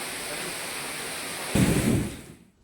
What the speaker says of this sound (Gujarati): જો કે આખરે વરસાદનું આગમન થયું છે